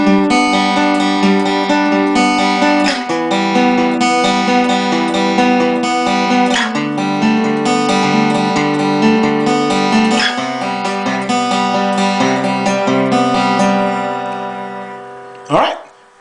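Acoustic guitar played in a fingerpicked pattern while the chord shape slides down the neck, ringing notes and repeated plucks flowing steadily and up close, ending on a sharp strum.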